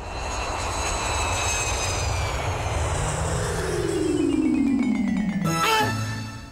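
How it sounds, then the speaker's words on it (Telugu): A loud airplane engine roars steadily in a film scene of a plane flying into a building, its pitch sliding lower as it passes close overhead, with a brief sharp tone near the end. "ఆ విమానం చూడండి బాస్, బిల్డింగ్ లోకి ఎలా దూరిపోయిందో"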